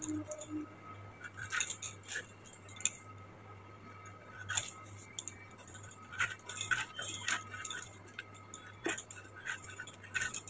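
Cutting through the oiled stem of a raw jackfruit on a boti blade in a kitchen, with scattered crisp snips and clicks of metal against fruit, some clustered, over a steady low hum.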